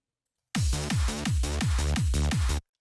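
A rapid burst of UK hardcore style synth bass from detuned saw oscillators, about eight quick pulsing hits in two seconds, each with a slightly different swirling tone, loud and continuous with no talk.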